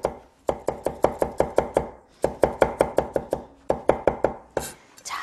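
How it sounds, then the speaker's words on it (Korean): Knife julienning garlic on a cutting board for Chinese-style shredded pork, a fast, even run of sharp close chops in three bursts separated by brief pauses, with no talk. "채를 썰도록 하겠습니다."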